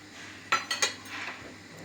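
A metal utensil clinks against a bowl while batter with salt, soda and sour cream is mixed, three quick sharp taps followed by softer scraping, close and quiet with no talking.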